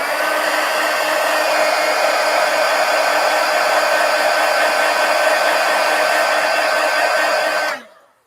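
A hair dryer blows steadily and loudly at close range to dry a freshly worked journal page, with an even whine for about eight seconds before switching off and spinning down.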